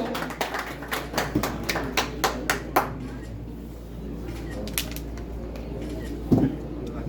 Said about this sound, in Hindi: जोरदार तालियां हो जाए दोस्तों